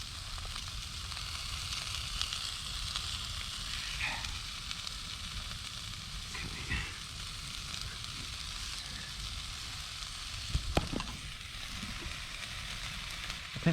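Courgette frying in a pan at a cold woodland wild camp makes a steady close sizzle throughout, with occasional soft clinks and scrapes from stirring.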